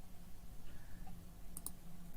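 A faint double mouse click sounds while choosing options in a social media campaign scheduling program, two quick ticks in a quiet room with low background hum.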